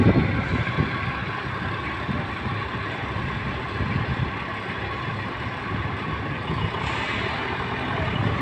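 A mini dump truck backs up over and over at an interlock paving site, its diesel engine rumbling loud and close throughout with no speech.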